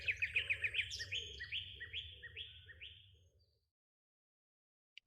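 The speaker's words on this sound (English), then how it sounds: "Invisible birds chirped in the surrounding foliage." Several birds chirp and tweet from unseen spots in eucalyptus-scented foliage, a quick run of bright repeated notes over a low background hum, fading out after about three seconds into silence.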